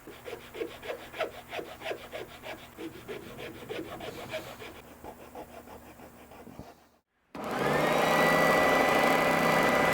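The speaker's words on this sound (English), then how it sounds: "We'll get the majority of that material removed with this rasp" A hand rasp filing the wood of a custom guitar body, a run of quick, rhythmic scraping strokes up close that slow and fade, followed by a sudden steady mechanical whine from a power tool.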